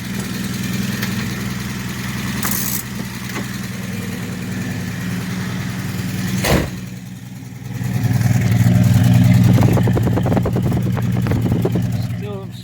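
A 1966 Dodge Dart GT barn find, running slightly rich with timing a little off, idles nearby in a steady low rumble that rises in a louder rev partway through, with a voice talking over it.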